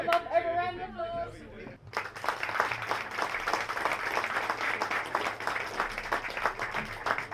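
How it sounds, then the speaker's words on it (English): After a short stretch of a person talking, an audience at a food talk breaks into a sustained round of applause, with dense clapping mixed with faint chatter. "So I will give you a round of applause."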